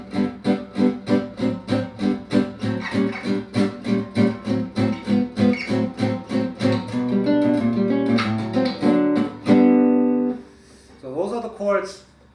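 Early 1930s style jazz guitar plays rhythmically strummed chords on a tune, steady even strokes up close, ending in a ringing chord before a short spoken remark.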